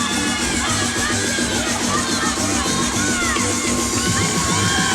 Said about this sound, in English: Her teammates cheering her on.